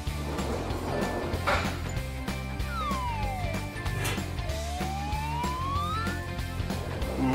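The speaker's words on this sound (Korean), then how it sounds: "이거는 경찰차 같아요." Cartoon police car siren wailing in repeated rising and falling sweeps, steady and fairly loud over background music.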